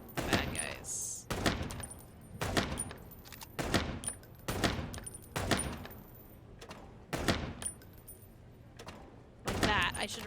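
Gunfire in the video game Chicken Police, a series of sharp, loud shots spaced about a second apart, with metallic reload clicks between them.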